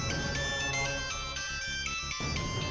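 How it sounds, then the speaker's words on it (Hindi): A phone ringtone plays steadily, a bright repeating electronic melody with a beat underneath, close and loud throughout. "आरजू फोन कर रहा है"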